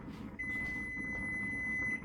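A kitchen timer gives one long, continuous high electronic tone while coffee brews, holding steady for most of the moment over low background room noise, no talking.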